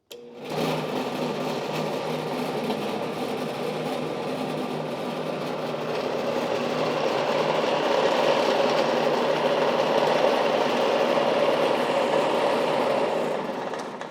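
A Shopsmith Power Station woodworking machine runs steadily at full speed, a loud continuous mechanical whir and hum with a slight rise in intensity partway through, without talking.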